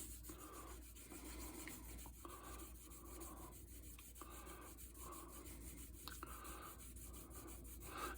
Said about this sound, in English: I'm just going to wet that down a little bit. And just carefully start sanding back and forth.